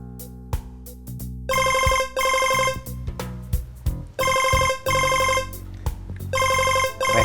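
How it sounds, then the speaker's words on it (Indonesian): A mobile phone ringtone plays in repeated bright, electronic melodic bursts separated by short pauses, loud and close, with no one speaking over it. "Akhirnya Mika telepon juga."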